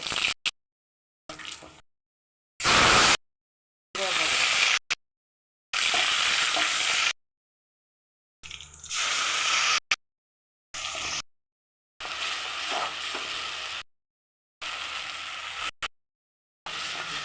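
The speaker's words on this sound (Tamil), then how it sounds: "கடுகு போட்டுக்குவோம்." Mustard seeds frying and sizzling in hot oil for rasam, heard in a series of loud, separate bursts of crackling hiss broken by short silent gaps, with no talking.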